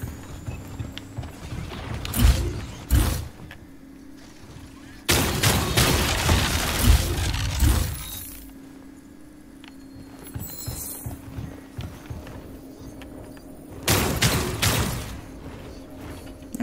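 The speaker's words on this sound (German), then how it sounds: "Wer hat denn da jetzt geschossen?" Gunfire in the video game Outcast 2, sharp loud bursts of shots in separate volleys with quieter gaps between them, over low background game noise.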